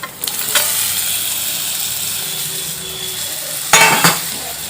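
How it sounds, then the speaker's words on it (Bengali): Fried chicken pieces are stirred into a spice paste in hot oil, a steady close sizzle with two louder bursts of scraping and clatter from a spoon against the pan. "খুব ভালোভাবে মশলার সঙ্গে কষিয়ে নেব মাংস।"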